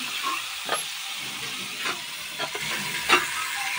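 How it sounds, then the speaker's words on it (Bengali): Pointed gourds (potol) frying in a pan over a low flame, a steady soft sizzle and hiss with occasional brief louder spits and stirring scrapes, close by with no talk. "এবার পটলগুলো খুব বেশি জাল না, হালকা জাল দিয়ে ভেজে নেব"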